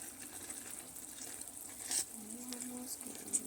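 Nacho cheese being stirred in a pan, with a soft continuous sizzle and faint scraping, quiet and close with a brief brighter clink near the end.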